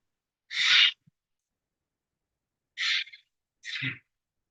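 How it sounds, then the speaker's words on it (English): A Steller's jay gives three harsh, raspy calls, each short and separated by silence, the first longest, the last two closer together. "So this is the Steller's jay,"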